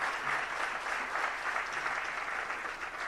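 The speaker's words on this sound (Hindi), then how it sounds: "जरा जोरदार तालियों के साथ" Loud, dense applause from a temple gathering's audience, steady and unbroken for about three seconds with no talk over it.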